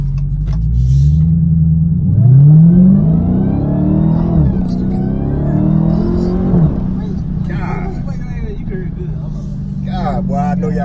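A 2019 Dodge Challenger Hellcat accelerating, its supercharger whine rising in pitch over a loud engine rumble, easing and climbing again, with someone talking near the end.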